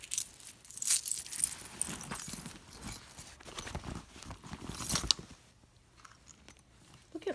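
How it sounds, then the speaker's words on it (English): A set of spare keys jangling as they come out of a Vera Bradley Turnlock satchel, with bright metallic clinks and rattles in uneven bursts. Close by, among soft rustling, ending in quiet handling noise. "And my extra keys."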